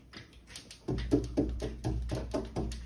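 Fingers tap repeatedly on a window glass to imitate a bee flying into it, a quiet, close series of about a dozen light, uneven knocks with no voice.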